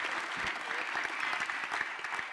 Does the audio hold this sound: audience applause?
yes